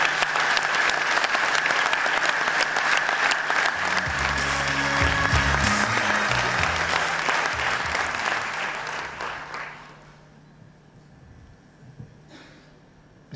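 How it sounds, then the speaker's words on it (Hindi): Sustained audience applause welcoming Anwar Maqsood at a cultural event in Bahrain, loud and dense, swelling briefly before fading into a quieter hall. "अपनी भरपूर तालियों में इस्तकबाल करें ख़वातीन और हज़रात अनवर मकसूद"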